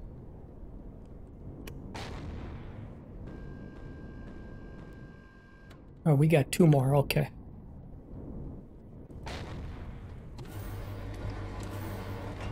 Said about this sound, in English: those explosions you hear are that, I believe it's that flak turret on the base